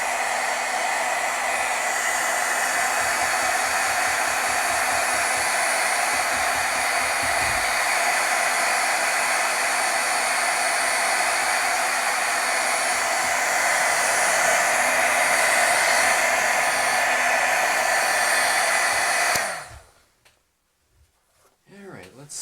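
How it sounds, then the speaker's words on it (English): A heat tool blows hot air onto the back of stamped paper, a loud, steady roar lasting about twenty seconds before cutting off abruptly into near silence. "We'll heat set from the back a little bit."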